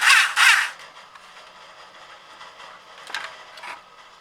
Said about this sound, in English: I'm able to get the motor going